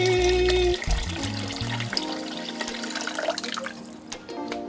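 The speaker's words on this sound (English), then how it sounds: "I'm gonna cap this off with water so it's all the way to the top." Tap water runs in a loud, steady stream into a pot of oxtails, filling it to the top, then fades to a softer trickle and splashing with faint kitchen clatter.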